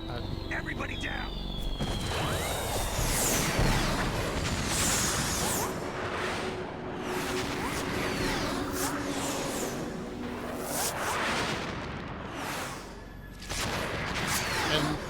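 Explosions and gunfire in the video game Metal Gear Solid 2 sound as dense bursts, whooshes and crashes that stay loud the whole time, with someone talking over the battle.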